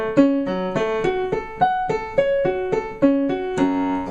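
Piano arpeggio played without the sustain pedal, each note cut short and separate in a clear, even rhythm of about a dozen detached notes, close and alone.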